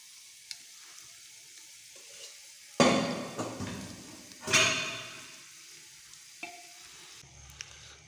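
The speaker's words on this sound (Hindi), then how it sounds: "गोश्त को ज़रा थोड़ा सा हमने फ्राई कर लेना है।" Meat frying in a pan for bhuna gosht with whole spices, a low steady sizzle broken by a few loud bursts of hissing as the pieces are stirred and turned.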